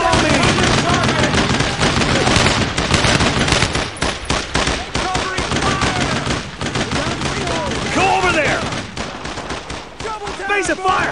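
Dense, rapid gunfire from the World War II shooter Brothers in Arms, bursts of automatic fire and shots going almost without pause, loud and close, with shouted voices breaking through in places.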